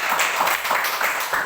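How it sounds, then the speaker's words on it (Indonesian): Brief burst of classroom applause as students clap together, a short scattered patter of hands at moderate distance, fading within a second or two. "tepuk tangan dulu buat kalian"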